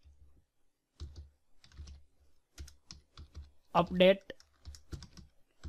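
Code is typed on a computer keyboard in soft, irregular bursts of close key clicks with short pauses, and someone speaks briefly between the keystrokes.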